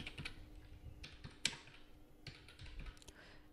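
An ID number typed on a computer keyboard, quiet, close key clicks in uneven quick bursts with one sharper tap partway through, and no voices.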